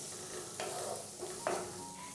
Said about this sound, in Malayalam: സവാളയും ചേർത്ത് കൊടുത്തതിന് ശേഷം നല്ല രീതിയിൽ തന്നെ നമുക്കൊന്ന് വഴറ്റിയെടുക്കണം